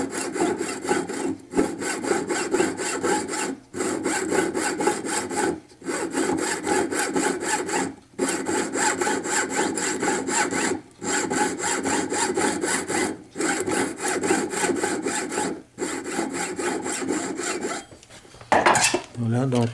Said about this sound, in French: il faut creuser encore un petit peu plus avec la scie